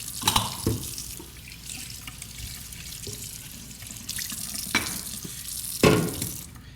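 Tap water runs steadily while espresso equipment is rinsed and scrubbed at a sink, a soft continuous wash broken by a few louder splashes and clatters close by.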